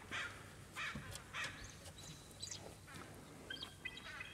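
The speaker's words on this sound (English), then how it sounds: "One's being attacked by a crow." Crow caws on a waterfront with seaweed and eagles nearby, several harsh calls spaced across a few seconds, moderately close, with other bird chirps in the background.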